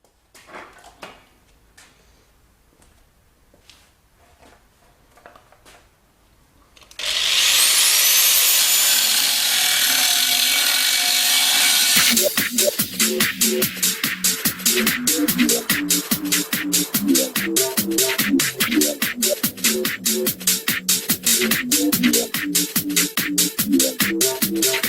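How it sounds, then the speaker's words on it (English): An angle grinder cuts into a welded split-rim alloy wheel: after a quiet start, a loud, harsh, steady grinding hiss kicks in, then carries on beneath rhythmic background music. "no one wants to listen to a grinder"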